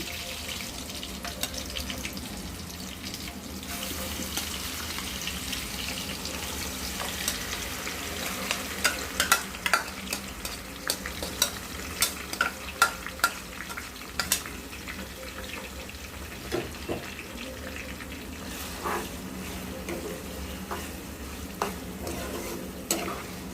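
Grated salted raw mango and green chilies saute in oil for a mango thokku pickle, a continuous sizzle broken by repeated scraping and clattering stirs that grow busier midway, close up with no talking.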